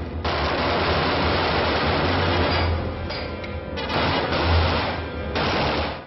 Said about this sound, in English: this guy wants to take out the big cannon machine gun and just try and blast him.